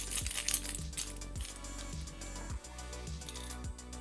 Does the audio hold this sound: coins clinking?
yes